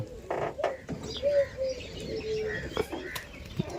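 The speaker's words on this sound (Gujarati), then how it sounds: "કબૂતરો આવી ગયો તમે જુઓ હું તમને બતાવું" Pigeons coo nearby in soft, repeated throaty calls, several overlapping through the clip, with a few chirps and faint background noise and no clear talk.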